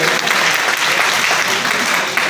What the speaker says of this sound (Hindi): एक बार चाहूंगा जोरदार तालियां बजाकर यशवंत जी का स्वागत करें